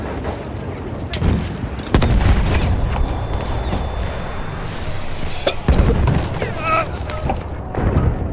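Grenade blast in the Battlefield 1 Frontlines mode on the They Shall Not Pass map, a sharp boom at about two seconds with another near five and a half, set in constant battlefield din, scattered gunfire and faint voices.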